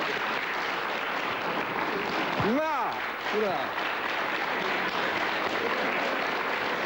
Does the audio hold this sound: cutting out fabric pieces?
no